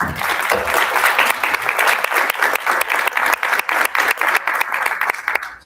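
Audience applauds school board candidates at a teachers' federation candidate forum, steady dense clapping filling the room for several seconds, loud and continuous with slight thinning toward the end.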